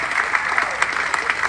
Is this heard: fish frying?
no